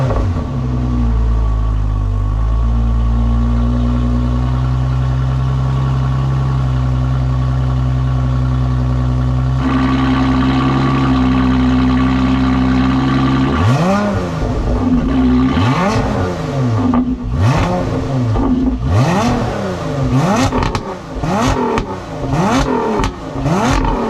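A Lotus Emira V6 First Edition with a Larini exhaust idles with a deep rumble, then revs repeatedly, each blip rising and falling in pitch with a loud, raspy exhaust note.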